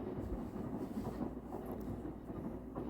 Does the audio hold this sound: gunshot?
no